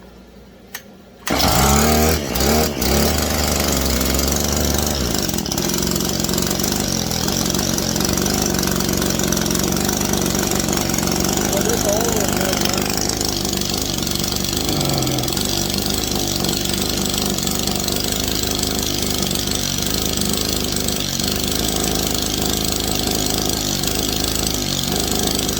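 A Husqvarna 435 X-Torq chainsaw with a bad coil starts up and runs loud and steady for the whole stretch, its two-stroke engine droning near the mic with a slight shift in pitch partway through as extra fuel is given.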